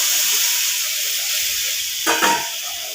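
Vegetables fried with salt and turmeric in a pan hiss and sizzle steadily; about two seconds in, water hits the hot pan and sets off a brief louder burst of spitting and steam.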